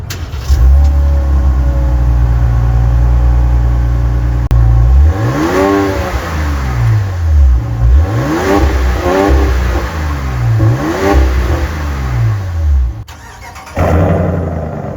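2026 Ram 1500 pickup with the 5.7 Hemi V8 and performance exhaust, close and loud: a steady deep idle, then four sharp throttle blips rising and falling in sequence, a short pause, and one final rev.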